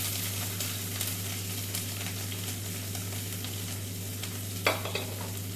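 Small and large onions with green chillies, mustard seeds and curry leaves frying in hot oil, giving a steady low sizzle with faint stirring and one sharper clink near the end, no voices.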